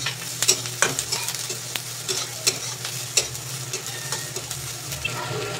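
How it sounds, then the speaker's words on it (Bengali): Chopped onion and a single green chili fry in a hot pan, a steady close sizzle with repeated scraping stir strokes and light clinks throughout, no voices. "এবার এই ছোট ছোট করে কেটে রাখা পেঁয়াজটা দিয়ে দেবো। এই পেঁয়াজের সাথে দিয়ে দেবো কাঁচা লঙ্কা"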